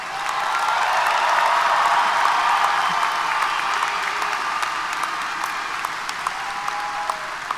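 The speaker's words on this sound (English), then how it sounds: "Everyone, let's give these new alumni a round of applause." Sustained applause from a large commencement audience welcoming new alumni at a Texas A&M University-Corpus Christi spring ceremony, a dense steady wash of many hands clapping throughout, fairly loud with no talk over it.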